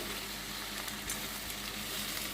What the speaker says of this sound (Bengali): এখন এই যে ভিজানো মুগ ডালটা, এটা এখন আমি এর মধ্যে দিয়ে দেব। সবটা দিয়ে ভালো করে কষাতে হবে।